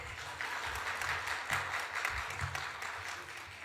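A church congregation at an early-morning autumn revival service applauding together, a soft, fairly distant wash of clapping that holds steady for a few seconds.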